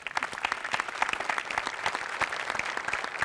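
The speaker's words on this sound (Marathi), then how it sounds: "मराठी भाषेसाठी एकदा टाळ्या" A studio audience at a Marathi comedy show breaks into sustained, dense applause that stays even and loud throughout, with no break in the clapping.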